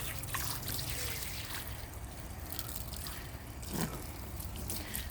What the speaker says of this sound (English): I'm just gonna hose this all down